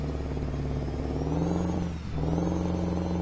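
A Mack R600 truck engine in American Truck Simulator hums and revs steadily, its pitch rising, dipping briefly, then climbing again, loud and close.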